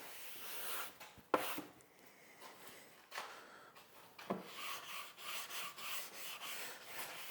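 Plastic scraper rasping along a waxed snowboard base from heel edge to toe edge, repeated close scraping and rubbing strokes with small sharp clicks as the tool catches, no talking.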